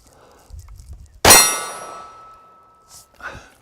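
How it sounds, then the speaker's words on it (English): A single loud metallic clang as a 308 Reaper bolt-action rifle round strikes a steel target, ringing out and decaying for about a second, followed by a faint second tap and quiet background murmurs. "We're gonna shoot the 308 Reaper rifle right now, bolt action."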